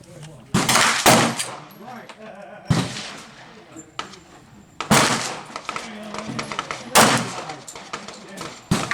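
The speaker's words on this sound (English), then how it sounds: "we're going to do another 6-shot string with a 230 grain lead round nose" Pistol shots from a 230-grain lead round-nose string, fired from a Colt 1911 or Glock 30SF, crack loudly one at a time. Several separate reports are spaced out, and outdoor range noise carries between them.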